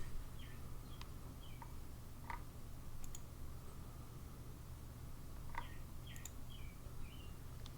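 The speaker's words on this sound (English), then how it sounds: "I don't know if you can hear these birds that are hanging around my window, keeping me company." Small birds perched outside a window give faint, scattered chirps and short calls over a steady low background hum, with no voices.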